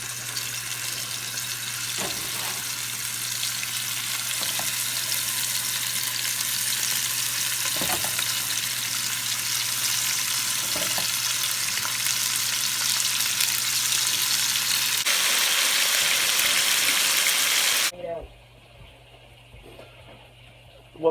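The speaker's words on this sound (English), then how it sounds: "Hear that sizzle?" Steady, loud sizzling of meat browning in hot canola oil, with a few faint clinks, then a sudden drop to quiet near the end.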